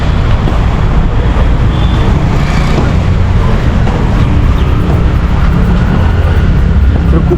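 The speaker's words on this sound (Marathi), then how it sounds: "इथं तुम्ही बघू शकता ट्रॅफिकच खतरनाक आहे" Heavy road traffic on a rainy day near Dapoli in the Konkan, a loud, continuous low roar of engines and tyres on wet road, close and unbroken throughout.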